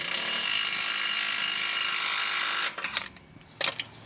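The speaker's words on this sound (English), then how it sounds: "so I've got the rattle gun" Pneumatic rattle gun hammering on a Pajero torsion bar adjuster bolt, a loud continuous rapid ratcheting burst close by that cuts off, followed by a few brief clanks and short bursts.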